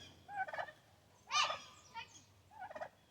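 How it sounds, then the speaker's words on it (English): A turkey near a backyard chicken coop gobbles in three separate rattling bursts, each short and moderately near, with quiet pauses between them and no talk over them. "The turkey."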